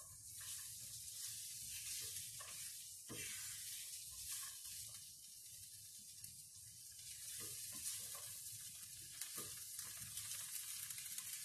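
Peas and carrots sizzle and fry steadily in a hot pan for a chicken and bacon pot pie, a continuous close hiss with occasional stirring scrapes and pops throughout.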